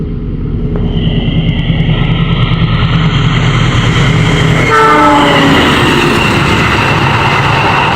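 The Argo Lawu passenger train rumbles loudly close by, its horn sounding in a long blast midway while the wheels keep clattering along the rails.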